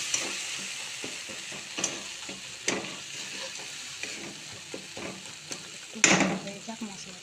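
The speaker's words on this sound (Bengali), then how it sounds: "দেখো মশলা আমার ভাজা হয়ে গেছে, তেল ছেড়ে দিয়েছে।" Spice paste with tomato fries in oil in a wok, a soft continuous sizzle broken by several sharp scraping clatters of stirring, the loudest near the end.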